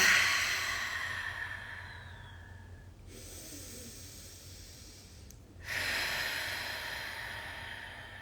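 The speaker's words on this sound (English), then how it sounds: "breathe really deep and audible into that area" Deep, audible breathing during a guided awareness exercise, drawn slowly through the throat: a loud breath at the start, a hushed pause, then another strong exhale near the end, close and alone without talk.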